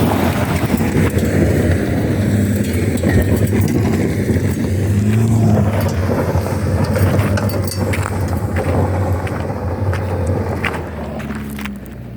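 Car engine straining and accelerating up a steep track on a Namibian road trip, a steady loud drone with heavy wind buffeting the microphone throughout, easing slightly at the end.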